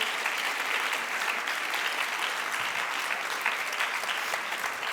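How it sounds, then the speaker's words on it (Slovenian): Audience applause fills a closing award ceremony for the POPRI 2026 competition as third-place winners are honoured: steady, dense clapping from a large crowd, sustained evenly throughout without pause. "mi pa bomo med tem ploskali in se veselili skupaj s 3. uvrščenimi"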